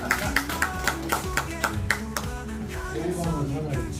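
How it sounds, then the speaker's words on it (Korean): Scattered hand claps ring out at a farming education session, a handful of distinct close claps in loose rhythm that thin out as a voice begins speaking. "우리 김용인 선생님한테 큰 박수 한번 보내드리겠습니다"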